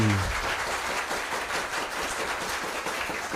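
A school quiz competition audience claps steadily at moderate loudness, the dense patter holding evenly for a few seconds after a brief low tone at the start.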